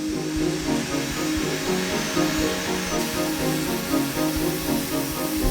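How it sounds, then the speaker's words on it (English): A steady, loud whir and grinding of a 5-axis milling machine shaping a car model, with a rhythmic pulsing drone and no voices. "The drill bit follows a pre-programmed route, shaping the car with utmost precision."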